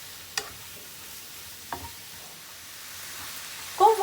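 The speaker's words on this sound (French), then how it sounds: "on va mélanger bien avec tout le viande hachée, les carottes, les oignons, les 2 poivrons rouges et verts." Minced meat with carrots, onions and red and green peppers is stirred in a pan; faint, soft sizzling sits under a few sparse scraping clicks, quiet and close, with no talking.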